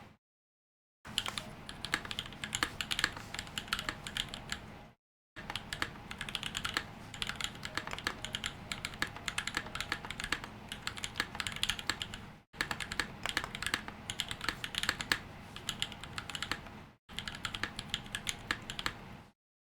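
Someone types on a computer keyboard fitted with 78g Zealios V2 switches, producing close, crisp clicks in rapid bursts separated by brief pauses.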